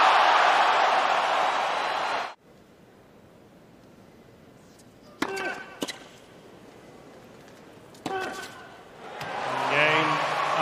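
Tennis crowd at the US Open during a 2022 quarterfinal between Alcaraz and Sinner, a loud broad roar of cheering and applause for about two seconds before cutting away, followed by sparse sharp sounds, brief voices and a swelling crowd again near the end.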